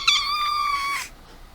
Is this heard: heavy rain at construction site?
no